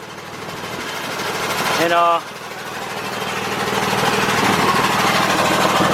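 An air compressor runs with a steady loud mechanical drone in a garage during front axle work on a 2006 Kia Sorento LX, briefly broken by a short voice, then rising slightly and continuing.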